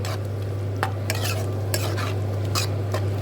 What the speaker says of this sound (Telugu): పాలు పోసినాక కూడా ఒకసారి తిప్పుకోవాలన్నా కదా